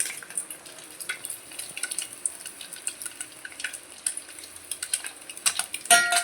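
Eggs cook in oil in a pan, giving a light, intermittent crackle and sputter of sizzling. Scattered pops come close up over a quiet background, and a slightly louder burst of spattering arrives at the end.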